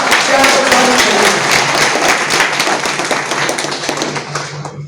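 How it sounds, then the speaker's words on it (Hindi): Ward members at a meeting about an MLC by-election clap energetically. Dense nearby clapping fills the room, with a steady hum underneath, then fades gradually toward the end. "हम वार्ड सदस्य महासंघ के तरफ से सभी वार्ड सदस्य भाई से आग्रह करतानी एक जोरदार ताली के द्वारा"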